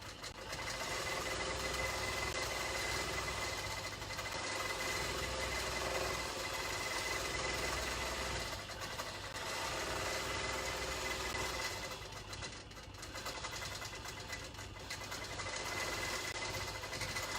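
Longarm quilting machine stitching continuously, a steady mechanical whir and rapid needle vibration that holds at an even level for the whole stretch, with no talk over it.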